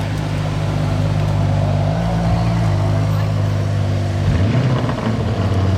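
A black Lamborghini Urus starts up nearby on a Monaco street outside a hotel, a steady low engine drone that rises into a brief rev near the end, with faint voices in the background.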